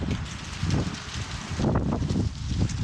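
Strong gusts of wind buffet the microphone in low rumbling bursts, surging and easing over a few seconds with no talking.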